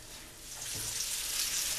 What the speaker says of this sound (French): on les met directement dans notre poêle et on laisse cuire à peu près 5 minutes